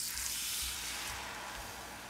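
Flour stirred into melted butter in a pan gives a steady, gentle sizzle with a bright hiss, faint and continuous and with no talking.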